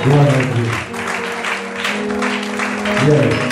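A church congregation claps and cheers at an evening service, sustained applause filling the room alongside sung or shouted tones, loud and continuous throughout.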